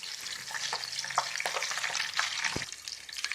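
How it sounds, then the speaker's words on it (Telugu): Chilli chicken pieces frying in oil in a pan until light brown, giving a close, continuous sizzle with occasional stirring scrapes and crackles. "కొంచెం లైట్ బ్రౌన్ కలర్ వచ్చే వరకు మనం ఫ్రై చేసుకోవాలి."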